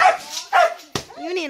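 Dog barks in a mangrove forest garden, a few sharp yips and barks mixed in with nearby voices of people talking.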